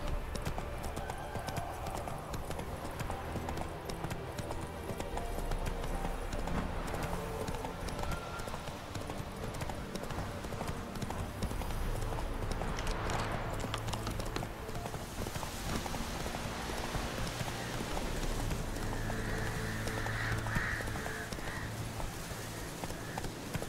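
The horse Roach's hooves clip-clop steadily in The Witcher 3, a quiet, even rhythm of footfalls that continues throughout over a soft layer of rain and ambient noise.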